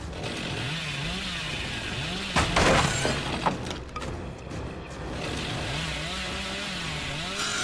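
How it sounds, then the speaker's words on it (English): A Hillbilly's chainsaw revs in Dead by Daylight, a loud, continuous engine drone with wavering pitch, interrupted midway by a burst of crashing impact noise, then roaring on steadily. "See if I can hit her with the chainsaw."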